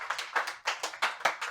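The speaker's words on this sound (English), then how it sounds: "give yourself a big applause" A small audience claps with bursts of pulsing applause, about eight uneven swells over a second and a half, close and fairly loud with no talk.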